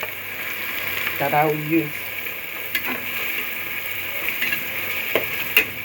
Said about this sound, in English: Now I'm adding my stock